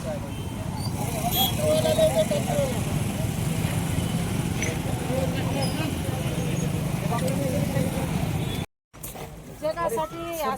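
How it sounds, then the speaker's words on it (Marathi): A road traffic jam with long queues of vehicles on both sides during a road-blockade protest gives a steady rumble of idling engines and road noise, with someone talking over it throughout and a brief cut near the end. "त्या ठिकाणी बघू शकता कशा पद्धतीने ट्रॅफिक जाम झालेला आहे"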